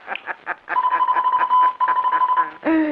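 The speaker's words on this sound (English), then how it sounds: "Now he's going to turn on that automatic radio sender." A steady electronic tone sounds for an automatic radio sender sending distress signals in an old radio drama, continuous and prominent beneath overlapping voices, ending with a short burst of another tone.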